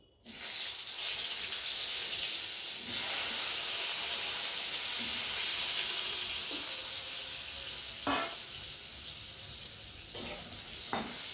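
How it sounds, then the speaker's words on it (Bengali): Cut pointed gourd (potol), coated with salt and turmeric, hits hot oil and sizzles loudly and steadily up close, with a few stirring knocks. "এবার এই তেলেই আমি দিয়ে দেব এই যে কেটে রাখা পটল"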